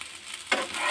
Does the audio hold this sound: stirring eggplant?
yes